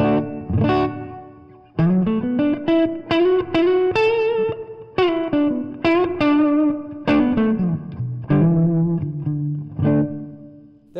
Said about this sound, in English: That's the reverb set on the 65 setting.